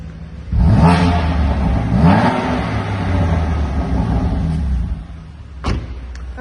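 A black sapphire metallic BMW M4 Competition Pack, warmed to operating temperature, revs its engine in a few loud rising blips followed by a sustained roar, then settles to idle with a brief click near the end.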